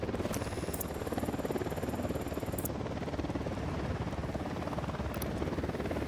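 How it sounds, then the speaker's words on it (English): Helicopter in the video game Ghost Recon Wildlands, a steady low rotor throb holding at moderate loudness for several seconds, with brief bright electronic blips above it and no talk. "We got a chopper coming in."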